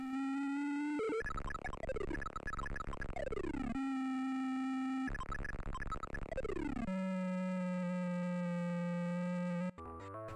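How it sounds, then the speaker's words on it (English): Indy 500, the DOS racing game running on a New Nintendo 3DS, plays bleepy PC-speaker square-wave tones: steady engine drones broken by rising and falling chirp sweeps, loud and continuous with no voices. "Indy 500, an XT class game with no problems here."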